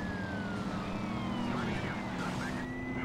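A police car siren in the video game Driver: Parallel Lines wails steadily with rising and falling tones over a dense, continuous backdrop of engine and game noise, with no talking.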